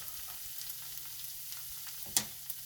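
Parmesan cheese crisps in oil over a gas stove turned below medium, giving a soft, steady sizzle with faint crackles and one sharp utensil tap near the end.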